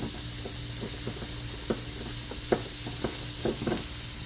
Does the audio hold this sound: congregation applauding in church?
no